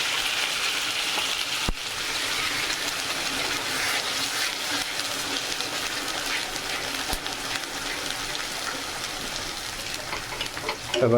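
Onion paste frying in a pan for a spicy hilsa fish curry produces a continuous close sizzle and crackle, steady throughout with a couple of sharp clicks from the pan.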